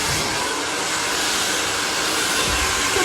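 A hair dryer blows steadily at close range while hair is brushed round on a roller brush, a continuous broadband airflow rush with no pauses or talk.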